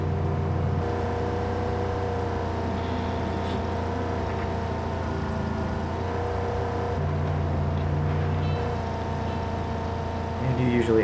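A train of cars driving in Just Cause 3 and running into oncoming traffic, heard as a loud, steady engine drone with shifting tones and a few brief knocks of impact.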